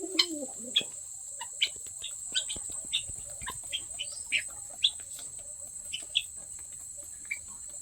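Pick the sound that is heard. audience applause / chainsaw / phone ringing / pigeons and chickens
pigeons and chickens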